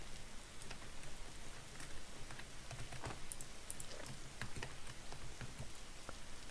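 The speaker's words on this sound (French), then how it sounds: "il pleut, j'avais pas capté" Steady rain falls in the Roblox video game, a dense, even hiss with scattered small droplet ticks running continuously at moderate level, with no voices.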